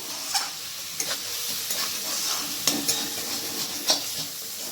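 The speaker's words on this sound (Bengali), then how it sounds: "টমেটো পেস্টটাকে মাংসের সাথে আবার ভালো করে কষিয়ে নিচ্ছি" Tomato paste and mutton stir-fry in a pan, a steady sizzle punctuated by sharp spatula scrapes and knocks against the pan every second or so, with no one speaking.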